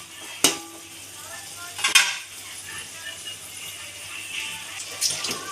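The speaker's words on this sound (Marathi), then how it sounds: "आता त्याला मिक्स करून घेऊया." A spoon stirs pav bhaji mixture in a pan. Two sharp clinks against the metal stand over a soft sizzling bed, with a fainter scrape near the end.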